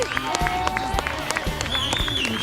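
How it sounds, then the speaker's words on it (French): Spectators at a family backyard running race clap for the runners on the first lap of a 5 km, scattered claps mixed with crowd noise and a voice. "Allez les applaudissements."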